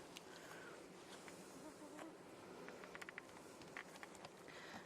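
Honey bees buzzing in an opened hive's top box above the queen excluder, a faint, continuous close drone with a few louder passes of individual bees, no talk.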